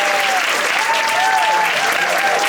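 Audience at a mayoral and city council candidates forum applauds the three candidates, a loud continuous burst of clapping throughout, with a faint tonal whistle or feedback line running beneath.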